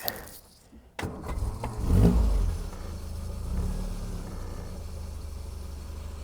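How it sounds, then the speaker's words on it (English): A 1972 Triumph Spitfire Mk IV engine cranks and catches, then rises to a steady running rumble, heard up close. "let's start her up"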